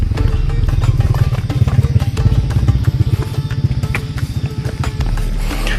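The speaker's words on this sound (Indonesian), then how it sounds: "langsung ngeblayer dulu mesin si Eno sebelum nemu tanjakan" A motorcycle engine revs hard on a steep gravel mountain trail through a plantation, with a loud, close, continuous throbbing rumble that pulses steadily throughout.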